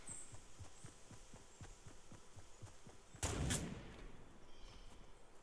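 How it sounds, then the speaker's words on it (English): In a Fortnite battle royale match, a single sharp sniper rifle shot cracks out at mid-clip, standing above a quiet background of steady soft footstep-like thumps, with no talk over it. "somebody's sniping over there"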